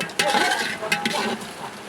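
A spoon scrapes and stirs meat as it fries in a pot for khichuri, two short clattering strokes over a soft sizzle, close and brief.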